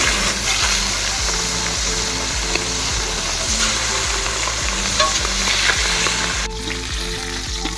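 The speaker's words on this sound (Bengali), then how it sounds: "এবার মুন্ডুটা ভেজে নেবো" Large katla fish head frying in oil, a loud, continuous crackling sizzle with a steady rhythmic thumping pulse underneath, close and uninterrupted without talk.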